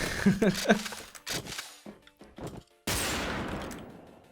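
Shotgun blasts in the online shooter Wolfteam: several sharp shots in the first half, then one loud blast near the end with a long decaying tail, set against game noise.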